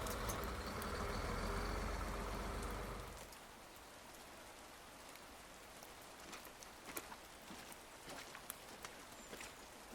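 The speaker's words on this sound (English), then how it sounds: "Such rain." Rain ambience in the video game A Storied Life, with a louder rushing layer for the first few seconds, then softer steady rainfall with scattered drop ticks. No one speaks.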